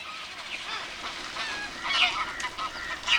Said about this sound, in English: All around, the marshes are bursting with the arrival of tens of thousands of waterfowl from Siberia, Mongolia, and China.